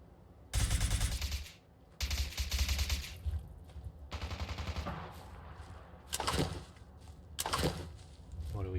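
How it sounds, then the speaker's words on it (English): Bursts of rapid gunfire in the Fallout 4 zombie apocalypse survival game, several loud volleys separated by brief gaps, some sounding like sustained automatic fire. "Okay, gunshots."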